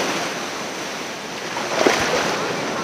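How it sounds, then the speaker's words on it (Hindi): Ocean waves wash in on Radhanagar beach as a steady broadband rush with some wind noise on the microphone and a brief voice partway through. "वेव्स आ रही एकदम"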